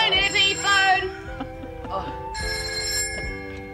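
A telephone rings in repeated trilling bursts, loud and near, with voices talking over and between the rings.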